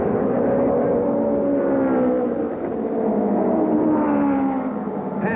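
1966 USAC championship race cars at Langhorne roar past with sustained engine drone and shifting pitch, loud and close, as if from archival race footage.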